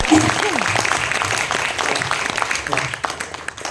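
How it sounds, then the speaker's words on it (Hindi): Audience applause at a Hindi poetry gathering, a short burst of crowd clapping under a speaking voice, fairly close and steady throughout. "एक बार आप मुझे तालियों के माध्यम से अपना मन दे दीजिए"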